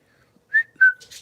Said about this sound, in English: my husband whistles to them, and they don't like that